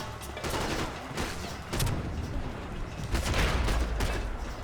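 Machine gun fire in the video game Max Payne 3, a dense crackling fusillade of rapid shots with rumbling low booms, continuous and fairly loud throughout.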